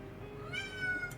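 A pet cat named Siggy gives a single drawn-out meow, rising and wavering over a soft background hum, close and clear.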